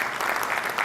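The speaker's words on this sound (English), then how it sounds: "Please give him a round of applause for that." An audience at a business excellence summit gives a brief, dense burst of applause, steady and fairly loud throughout.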